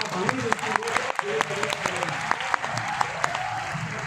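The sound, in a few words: loud applause from the audience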